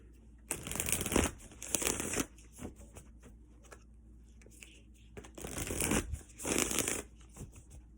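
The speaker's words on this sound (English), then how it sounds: "I'm going to grab you a card." Tarot cards are shuffled in two quick, close bursts separated by a quiet pause, with no talking.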